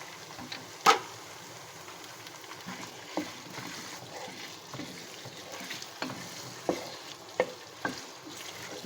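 Chicken added to sautéed masala for chicken jalfrezi fries in a pan with a soft, fairly quiet sizzle and occasional sharp clinks and stirring scrapes.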